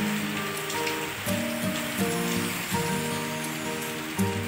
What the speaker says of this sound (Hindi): धूमधड़ा बारिश हो रहा है